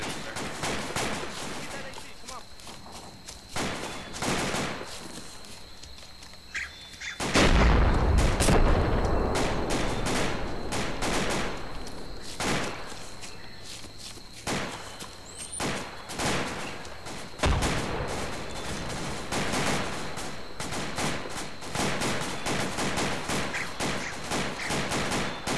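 Video game gunfire in a battle at Chu Lai, with bursts of rifle and machine-gun fire fired down a hill and heavy booms, loud and dense throughout, with voices heard occasionally under the shooting.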